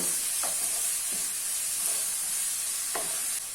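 Salt being stirred into chicken liver masala in a pan, a few soft spoon scrapes over a steady background hiss of gentle cooking, with no one speaking.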